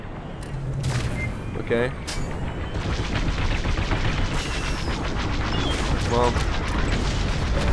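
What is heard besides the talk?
gunfire and explosions in Star Wars Squadrons video game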